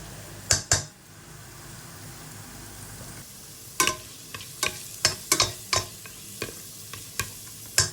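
Garlic and onion sauté in a pan with a faint background sizzle, punctuated by a series of sharp, irregular clicks and scrapes of a utensil stirring against the pan, close and fairly quiet.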